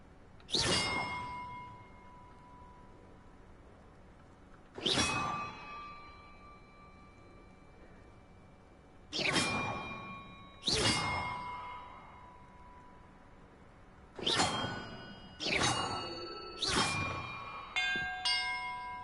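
Bells in a Hogwarts Legacy puzzle ring out one strike at a time, around eight clear resonant dings with long decaying tails, spaced several seconds apart at first and then coming in a quicker cluster at the end.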